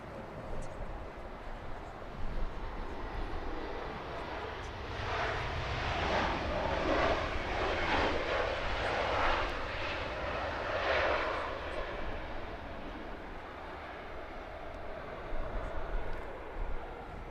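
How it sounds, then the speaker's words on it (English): An Airbus A319 arriving from Figari descends to land at London Heathrow, its jet roar swelling from a distance, peaking midway, then fading back to a faint rumble. "Little 319 coming in from Figari."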